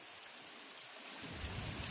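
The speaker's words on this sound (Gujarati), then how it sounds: "આપણે એમ લાગે કે નદી હાલી જાય છે પણ ખેતરાવું પાણી છે" Steady broad rushing of floodwater flowing through a field after heavy rain, a continuous hiss that grows fuller and deeper partway through, with no voices.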